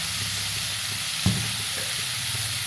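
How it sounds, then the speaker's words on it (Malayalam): Onions with salt sauté over medium heat for a spicy onion chutney, making a steady sizzle with one clear spoon knock against the pan partway through. "എല്ലാം കൂടി ഇട്ട് നല്ല പോലെ ഇങ്ങോട്ട് വഴറ്റുക"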